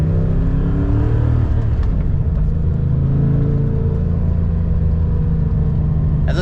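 An LS1 V8 engine swapped into a BMW 5-Series drives along, a loud deep rumble and burble with engine tones rising under acceleration and then holding steady.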